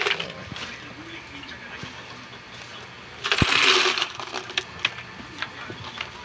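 Coins clatter and pour out of a full coin bank, a burst of dense metallic jingling in the middle after scattered clinks, with voices talking around it.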